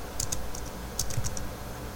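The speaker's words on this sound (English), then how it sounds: "the date I'm typing" Keys clack on a computer keyboard as a date is entered, a few quick clustered keystrokes in two short bursts, close and fairly quiet over a low hum.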